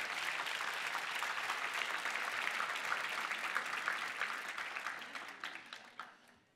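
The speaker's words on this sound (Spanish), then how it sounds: "Deme un aplauso." An audience at a church sermon claps in dense, sustained applause that holds strong for several seconds and then tapers off to scattered claps and silence.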